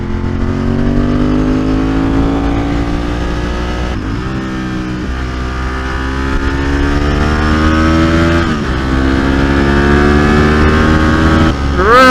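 A 29-year-old Ducati 916 motorcycle ridden on an open road, a steady loud engine drone from the rider's position with rising pitch as it accelerates and brief drops at gear changes.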